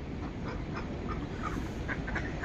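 Ducks in Prague give a few short quacks amid a dense, constant outdoor rumble, moderately distant and without talk.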